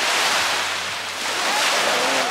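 Sea surf rolling onto a beach at Gelendzhik on the Black Sea coast, a continuous loud broadband wash of breaking waves with some wind rumble, no voices.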